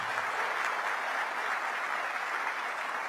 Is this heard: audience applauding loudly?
yes